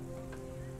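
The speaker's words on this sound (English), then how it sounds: "Oh, it started raining." Rain falls steadily in the video game Remnant: From the Ashes, a soft, even patter over a low, steady background hum, with no talking.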